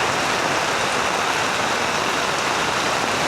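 Heavy, steady rain pours down during a storm in Da Nang, Vietnam, a dense unbroken hiss of downpour that stays loud and constant throughout with no voices.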